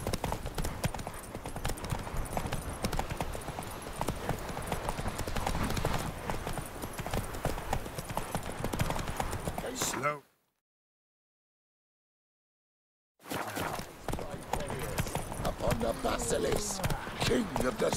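Fast, continuous hoofbeats of a galloping horse in the video game The Witcher 3, loud and close, broken by a few seconds of silence before resuming.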